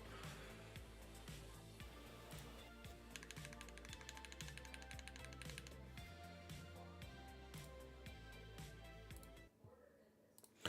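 Rapid custom mechanical keyboard typing with a carbon fiber plate, a steady stream of clacky keystrokes with bursts of faster clicks, close and clear, then a brief pause near the end.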